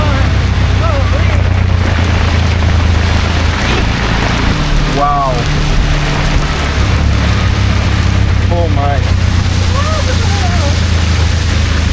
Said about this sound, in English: This is a proper storm.